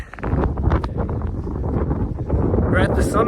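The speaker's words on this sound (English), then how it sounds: "ooh, it's windy." Strong, gusty wind buffets the microphone at a snowy winter mountain summit, a loud continuous roar with rumbling low end and no talk over it.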